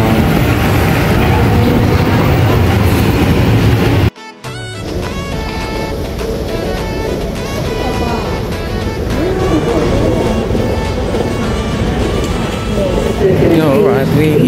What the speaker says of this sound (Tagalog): Alright, we're here at the train.